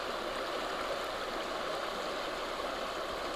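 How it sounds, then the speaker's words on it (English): River water flows steadily around a person standing in it, a constant broad rushing and gurgling with no breaks, moderately quiet and close. "The river breathes and I breathe and I stand in the river."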